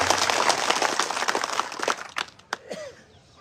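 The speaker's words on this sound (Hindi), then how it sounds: "एक बार जोरदार तालियों से पूरे मंच के लिए ताली बजा दें" A crowd claps loudly at an election rally in Gujarat, a dense wash of applause that thins into scattered claps and crackles before dying away.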